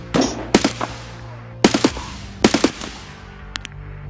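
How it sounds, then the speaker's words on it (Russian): Gunfire in the shooter game Escape from Tarkov: three loud, close automatic bursts a second or so apart, then a couple of fainter single shots, with no voices. "Это у вас стрельба?"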